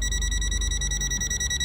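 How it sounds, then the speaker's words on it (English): The non-contact voltage buzzer of a Habotest HT123 digital multimeter beeps in a rapid, steady, high-pitched pulsing near a live wire, loud and close with a low hum underneath. "the buzzer sound quickly and then the red light on"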